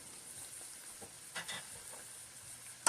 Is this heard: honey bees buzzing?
no